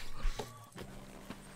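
A few hoof clops from a walking horse in Red Dead Redemption 2, uneven and fairly faint, with quiet background in between.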